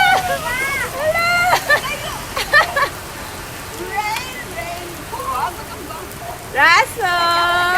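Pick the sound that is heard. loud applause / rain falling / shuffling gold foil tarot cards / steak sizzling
rain falling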